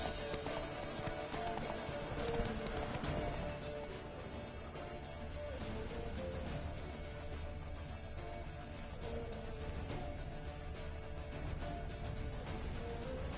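Hooves of the horse Roach clip-clopping at a gallop in the Witcher 3 video game, with an occasional whinny, a steady rhythmic patter that runs continuously under a dense bed of game ambience and music.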